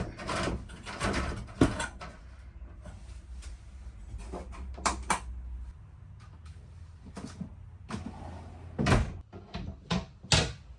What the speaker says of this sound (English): but gotta latch the doors.